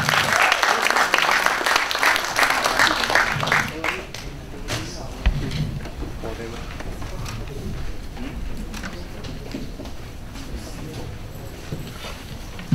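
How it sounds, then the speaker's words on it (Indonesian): Seminar audience claps warmly for a presenting team, loud at first and then thinning into scattered claps after a few seconds, with a voice starting up and room noise underneath. "Tepuk tangan dulu dong"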